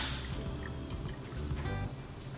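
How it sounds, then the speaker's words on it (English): Lime juice drips and trickles into a Caesar cocktail glass in a few faint, close drops over a low background, with no talking. "Add a little bit of lime at this point."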